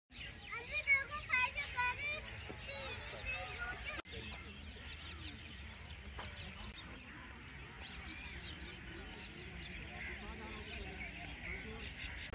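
Crows calling at the Taj Mahal in Agra, India, scattered caws rising over a busy outdoor crowd of chattering voices and children.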